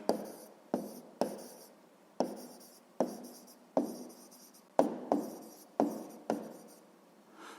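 Pen writing on paper while working out a sixth-grade maths answer: a series of quick, distinct scratching strokes in an uneven rhythm, each a short sharp stroke that fades. Close and clear, with no voice.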